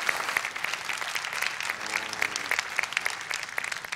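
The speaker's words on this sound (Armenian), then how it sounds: "Բարձր ծափարում ենք մեր հյուրին Մարիաննա" A studio audience applauds a guest on the Armenian TV dance show Dancing with the Stars (Parahandes 5), with dense, steady clapping that holds for the full four seconds.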